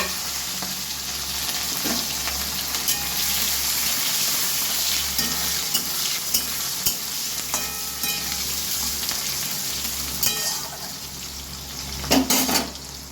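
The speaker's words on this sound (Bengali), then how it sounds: "পেঁয়াজ কুচি করা আছে, এটা তেলের মধ্যে দিয়ে দিচ্ছি।" Chopped onion sizzling in hot oil in a pan for a paneer curry, a loud steady hiss with occasional stirring clinks and scrapes, without speech.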